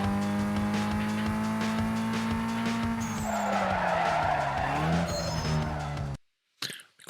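A race car in Need for Speed Most Wanted roars with a steady engine drone, then its tires skid and squeal loudly for a couple of seconds before the sound cuts off abruptly.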